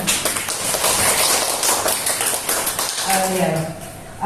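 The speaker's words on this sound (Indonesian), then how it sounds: "Tapi tepuk tangan dulu buat Ibunya" A crowd claps loudly and steadily, a dense wash of applause that tapers slightly near the end.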